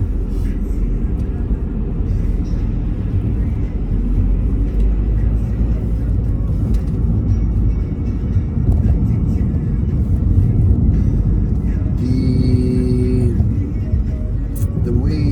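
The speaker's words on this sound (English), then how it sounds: "There are some cars, interestingly." Cars driving through Belgrade streets in Serbia, heard from inside a moving vehicle as a steady, loud engine and road rumble throughout, with a brief higher tonal whine near the end.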